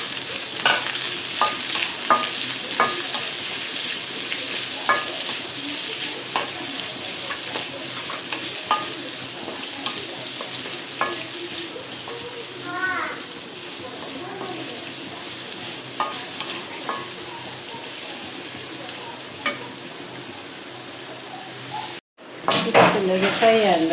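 Chicken sukka fries on a low flame in a pan, with a steady close sizzle throughout and repeated scraping strokes as a spoon stirs the pieces.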